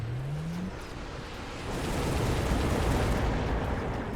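A missile strike lands in a strategy video game as a heavy, continuous blast rumble that swells louder partway through and then holds, with no voices over it.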